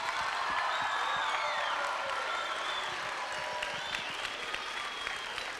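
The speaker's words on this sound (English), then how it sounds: "Let's give Melissa a big round of applause." An audience applauds in a renovated school gym. The clapping is broad and sustained from a sizable crowd, carrying a few faint cheers and whoops, with a bright, reverberant room sound.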